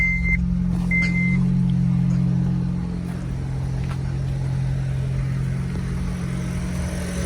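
A Honda Civic 1.8 engine runs at a steady, even idle close by, a constant low hum with a couple of brief high beeps near the start.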